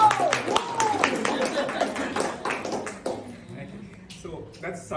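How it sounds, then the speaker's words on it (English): An audience at a public speaking practice session claps for a speaker, a burst of scattered hand claps that thins out over a few seconds, with voices chatting underneath. "I would like to have a clap for me."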